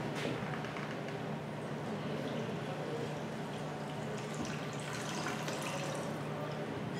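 300 ml of water pours steadily and softly into flour for focaccia dough for several seconds, a quiet continuous trickle with faint clinks in the background.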